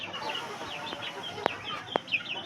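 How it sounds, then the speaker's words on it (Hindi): A pet rooster clucks in short, repeated bursts close by, with a few sharper squawks and chirping from other birds around it; no one speaks. "ये हमारा मुर्गा देखिए कितना प्यारा है"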